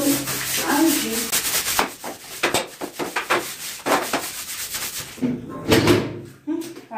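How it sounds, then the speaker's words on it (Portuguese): Stained, grimy ceramic tile scrubbed with a strong stone-cleaning product, giving steady, rhythmic rubbing strokes that are close and fairly loud and continue for several seconds. "Agora eu vou esfregar, gente, pra dar pro produto agir."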